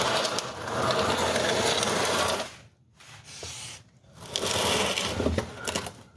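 Engine cranking on a first start attempt, a steady mechanical churning that runs for over two seconds, stops briefly, cranks again for about a second, then resumes for the last stretch, close and fairly loud.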